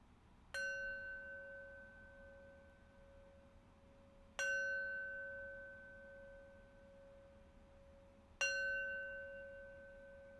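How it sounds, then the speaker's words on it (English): A meditation bell rung three times to close a practice session, each strike a clear ringing tone that slowly fades, spaced about four seconds apart in a quiet room with no talking. "let's close our practice with 3 rings of the bell"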